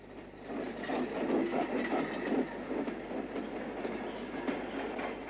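A Märklin TEE model train rolls along its track with a rhythmic clickety-clack of wheels over rail joints, steady and moderately close, with a faint hum underneath.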